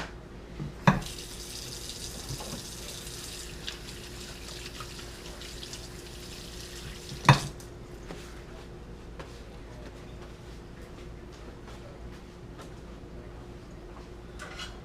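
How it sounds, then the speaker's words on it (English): Tap water runs steadily into a kitchen sink while hands are washed after handling raw steak, a soft continuous hiss broken by two sharp knocks near the start and middle. "I'm going to wash my hands"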